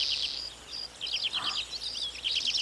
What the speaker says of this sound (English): Yeah, I hear birds chirping.